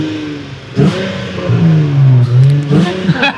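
A Hyundai Coupe 2.7 V6 engine revs up close and loud, a deep, rising growl swelling twice in short pulls with a steady mid-range drone between them.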